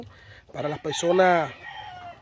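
A rooster, one of a pair of fighting cocks offered for sale as breeders, crows once clearly up close, the call rising and falling over about a second, with a voice speaking just before and after.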